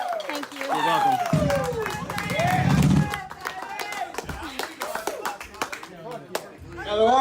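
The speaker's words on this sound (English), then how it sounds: "Give me a round of applause." An audience claps during a live-streamed event, with bursts of clapping mixed with voices talking and calling out over the top.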